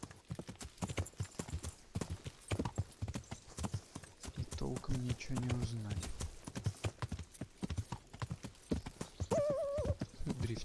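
Horse hooves clatter in a steady galloping rhythm while riding in the medieval game Kingdom Come, close and loud, with a brief whinny near the end and someone speaking over the hoofbeats.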